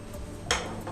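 A frying pan handled on a televised cooking set, giving a single short metallic clank against a quiet kitchen background.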